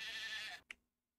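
A lamb bleats once in the farming game Medieval Dynasty, a short nasal cry rising clearly out of a fading wash of background game ambience, then silence.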